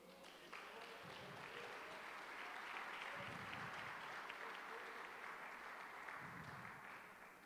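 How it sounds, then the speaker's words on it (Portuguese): A church congregation claps steadily for several seconds in praise during a Portuguese-language revival sermon. The applause is soft and somewhat distant, with faint murmuring voices underneath. "você pode aplaudir o Senhor?"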